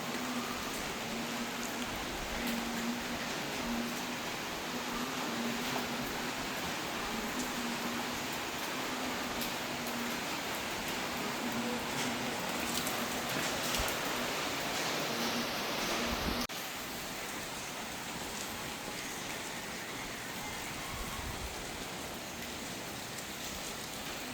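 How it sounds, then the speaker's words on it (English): Steady heavy rain from Typhoon Tino pounds down in Cebu City centre in a dense, continuous wash of noise, loud and unbroken, with a low hum underneath. "The rain again is beating down."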